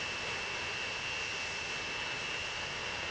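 In the Transport Fever video game, an aircraft's jet engines roar as it takes off. The broad, even rush holds steady at constant loudness, with a thin high whine riding on top and no voices.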